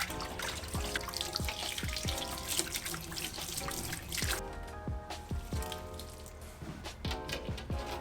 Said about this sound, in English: we'll give it a final rinse and then leave it out to dry